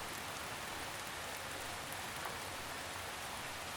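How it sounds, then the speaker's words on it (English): Gentle rain falls on forest leaves, a soft, steady hiss of countless drops pattering evenly, close and unbroken, with no voices. "The rain falls gently on leaves above, dripping into soft moss and earth."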